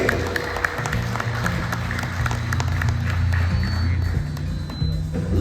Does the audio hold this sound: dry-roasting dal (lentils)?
no